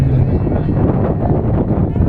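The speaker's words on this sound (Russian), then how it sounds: "Сегодня во второй день ветер очень сильный" Strong wind at an outdoor archery competition in Yakutsk buffets the microphone in a constant heavy rumble, loud and unbroken throughout.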